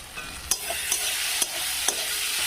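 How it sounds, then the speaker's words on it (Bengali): Eggplant frying in oil with turmeric powder is stirred in a pan, a steady sizzle broken by several sharp clicks of a spoon scraping the pan, close and fairly quiet, with no talking. "এইভাবে আমি নেড়ে নেবো।"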